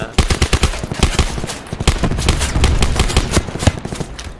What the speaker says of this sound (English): someone's shooting us from behind